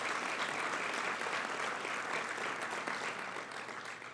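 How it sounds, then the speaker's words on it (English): Light, polite applause from an audience at a city State of the City address, a soft, even patter of clapping heard from a distance that stays fairly constant before thinning out. "That was more of a pickleball clap,"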